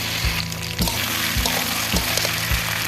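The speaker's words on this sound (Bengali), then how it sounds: "এখন ভালো করে নেড়ে চেড়ে মাটনটাকে কষিয়ে নেব।" Mutton and potatoes frying in a pan while being stirred, with a steady loud sizzle and a few scraping stir strokes; no talking.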